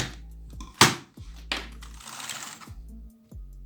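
Typing on a Rampage Alpor Pro keyboard, heard as a handful of sharp, close plastic clacks at uneven intervals with quiet gaps between, and no talking.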